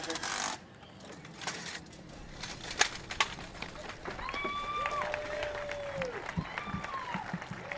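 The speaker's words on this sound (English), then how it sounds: "Everybody's applauding down there." Crowd applause and cheering from fans at a motorcycle pit stop during the Daytona 200 Pit Stop Challenge at Daytona, a steady wash of clapping with a broadcast commentator talking over it and some whistle-like tones.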